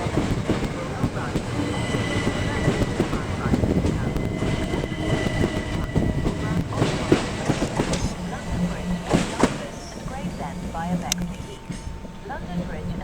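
A train runs through Sevenoaks station with rumbling wheels, clattering rail joints and brief squeals, fairly close and continuous, easing toward the end.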